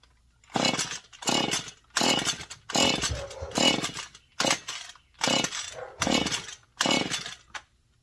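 A modified Husqvarna 435 chainsaw with a carburettor needing a rebuild bursts into about eight short, loud, raspy revs, each roughly half a second long and separated by brief silences, with no talking.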